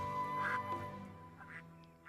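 Cartoonish ducks quack in the Baten Kaitos video game. A few nasal quacks repeat over a tonal game soundtrack at moderate loudness.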